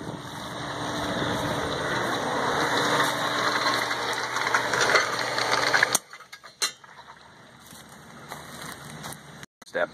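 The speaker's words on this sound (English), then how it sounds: "I'm going to go shut off the pump again" A swimming pool pump hums and whirs steadily at close range, then cuts off abruptly partway through, leaving quiet with a few scattered clicks and knocks.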